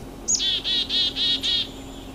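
A bird sings a run of five rapid, buzzy trilled notes in a steady rhythm, clear and fairly close against a quiet outdoor hum.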